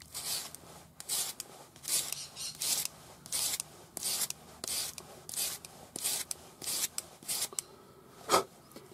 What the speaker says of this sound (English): So this is a 400 grade paper on a sanding stick.